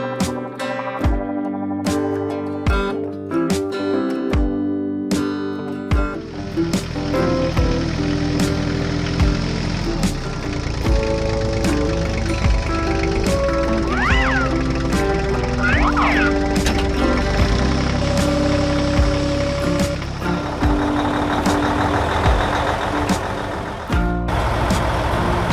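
An animated farm tractor's engine runs with a steady low rumble, blended with musical tones and a few electronic beeps throughout.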